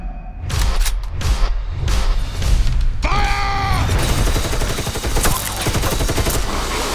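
Bursts of automatic gunfire from vampires firing machine guns, loud and dense, layered with booms, whooshes and a dramatic score in a horror-action trailer mix.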